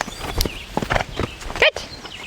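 A horse's hooves clip-clop irregularly on the ground while it is being trained to jump, with a few louder thuds and a brief snort, close by and without talk.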